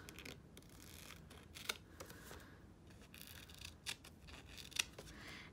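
Scissors trim the edges of a paper background sheet for a card-making kit project, a few faint, sharp snips spaced apart against quiet room noise.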